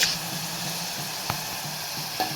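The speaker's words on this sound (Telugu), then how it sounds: "ఆనియన్ పేస్ట్ అయితే ఆయిల్లో వేగాలండి" Onion paste frying in hot oil for a prawn curry, giving a steady, fairly loud sizzle broken by a few small pops and ticks.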